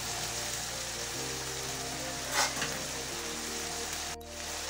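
Tomatoes fry in a pan for a vegetable jackfruit biryani, giving a soft, steady sizzle throughout, with a low hum beneath and a brief clink near the end.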